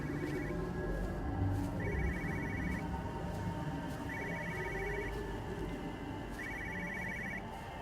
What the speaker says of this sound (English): With your phone, she's a ringing.